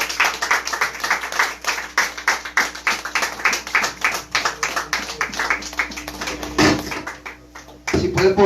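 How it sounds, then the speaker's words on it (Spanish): A church congregation claps rhythmically in steady, even beats, loud and sustained for several seconds with a few voices mixed in, ending in a pause and a brief louder burst at the close. "Denle un aplauso al Señor."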